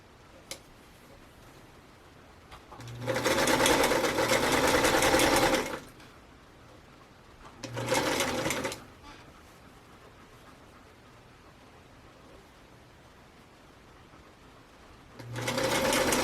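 A sewing machine stitches flying geese onto a quilt star block in three bursts of steady, rapid whirring, the first long, the second short, the last starting at the end, separated by quiet pauses.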